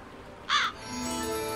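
A crow caws once in the Haunted Legends: Curse of Vox video game, a short, harsh, fairly close call standing alone before a steady low ambient hum resumes.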